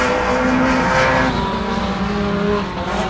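Mini stock race cars roar together on a dirt track during a heat, the loud engines sustained and close, with a pack running side by side down the front stretch.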